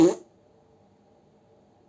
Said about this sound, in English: Here comes sexy fart number 2.